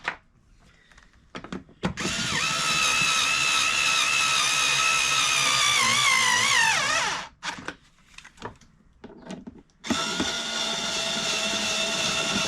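A power drill fitted with a 3/8 socket runs in two loud, sustained bursts as it drives bolts back in while changing a Timemaster mower blade brake cable, with a short rattle and pause between the bursts.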